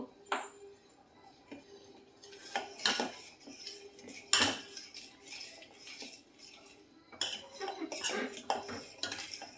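A utensil stirs turmeric powder into puliyogare mixture in a metal pan, with sharp intermittent clinks and scrapes of metal on metal separated by quiet gaps, close and clear.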